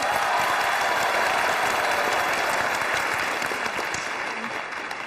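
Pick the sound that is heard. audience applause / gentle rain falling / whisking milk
audience applause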